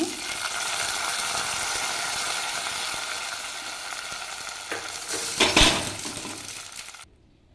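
Tempering of dried red chillies and curry leaves sizzles in a pan for spinach kootu, a steady close frying hiss with a brief louder burst of crackling and clinks near the end, then silence.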